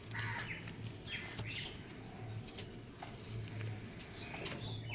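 Close, low, repeated cooing from a female pigeon of a top-quality fancy breed, in short rhythmic bursts over a busy backdrop of other birds chirping and wing flutters.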